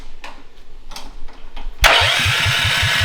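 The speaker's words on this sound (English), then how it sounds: "we'll start it real quick because we can start it up" A Trailmaster Mid XRX-R go-kart engine starts abruptly after a quiet stretch of faint background noise, then settles into a loud, steady running note with a rhythmic low pulsing.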